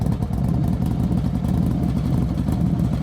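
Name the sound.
car engine arriving outside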